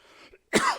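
A single harsh cough from a preacher during a church sermon, a sudden loud burst after a brief quiet pause, preceded by faint low sounds.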